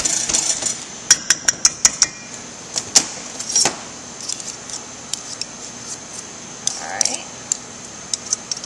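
Butter and shortening being cut into flour for strawberry shortcake dough, a series of sharp clicking taps and scrapes of a pastry tool against a bowl, near and irregular, with faint room sound between strokes.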